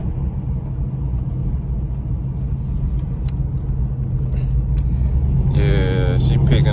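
LS-swapped car engine rumbling at a steady pace from inside the cabin, then building louder as it accelerates near the end, with a rising whine layered over the rumble.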